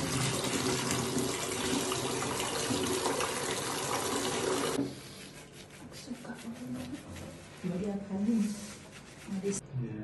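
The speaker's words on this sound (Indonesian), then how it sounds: "Berikutnya kita cuci rambut menggunakan sampo Metal DX." Water runs steadily over hair being washed with Metal DX shampoo after bleaching and lightening at a hair salon. A loud, even rush fills the first half, then stops, leaving quieter handling noises and a faint voice.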